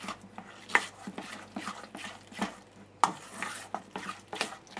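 A spoon stirs lemon juice into a Saint-Moret cheese mixture in a bowl, a quiet series of scraping strokes and light clinks against the bowl at an uneven rhythm, with no talking.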